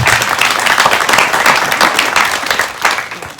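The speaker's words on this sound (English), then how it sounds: "That's worth applause." A crowd at a sheriff candidates' forum applauds steadily throughout, dense overlapping hand claps at an even, fairly loud level.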